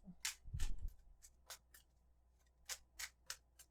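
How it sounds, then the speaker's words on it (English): Tarot cards are shuffled by hand close up: a quiet series of short, crisp riffling snaps in uneven bursts, with no talking. "Let's try that another shuffle."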